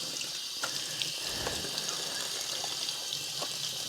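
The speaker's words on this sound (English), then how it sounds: "I've just been washing it with some washing up liquid in cold tap water." Cold tap water running while hand-dyed cotton fabric is rinsed with washing-up liquid, a steady close gush with small splashes and drips over it.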